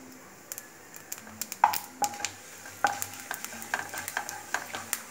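Cumin and crushed coriander seeds fry in hot oil while being made for samosas, with a soft steady sizzle broken by repeated light taps and scrapes of a stirring spoon against the pan.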